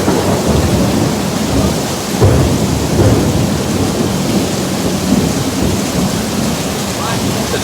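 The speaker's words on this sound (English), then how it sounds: "it's not only raining wildly insane, but the thunder is so loud here" Heavy rain pours continuously in Hanoi, Vietnam, with a deep rumble of nearby thunder rolling beneath it, loud and enveloping throughout.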